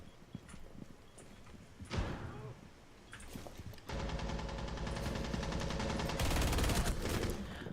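Rapid bursts of gunfire rattle through a busy video game battle, dense and continuous in the second half, with hoofbeat-like clatter and scattered noises beneath; a voice speaks faintly at times.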